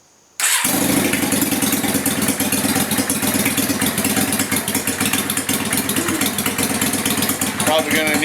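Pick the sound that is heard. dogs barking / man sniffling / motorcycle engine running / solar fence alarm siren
motorcycle engine running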